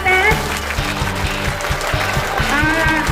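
Crowd applause at an SK basketball league ceremony in Quezon City, loud and steady clapping mixed with cheering and a rhythmic thumping beat, with voices talking through it.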